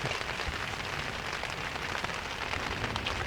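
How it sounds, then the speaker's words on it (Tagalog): Steady rain falling at a campsite during a group motorcycle camping trip, a dense even hiss of drops on surfaces with no pauses, moderately loud and constant throughout. "Dahil maulan."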